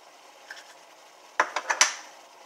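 A spoon clinks and scrapes against a bowl while stirring an omelet mixture of egg, cream, ham and cheese, with a few faint taps followed by a quick cluster of four sharper clinks, close and clear, with no talking.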